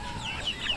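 A crested chicken gives a few soft, short clucks at a moderate distance, faint against low background noise with no talking.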